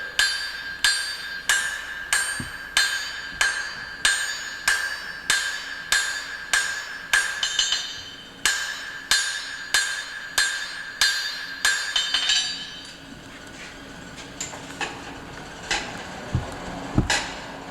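A hand hammer strikes a hot iron bar on an anvil, the blacksmith forging it with flat overlapping blows: sharp ringing clangs in a steady rhythm roughly every second, close and loud, then slowing to scattered lighter taps.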